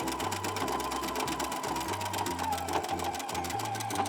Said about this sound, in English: I'm gonna go ahead and just zigzag down this little section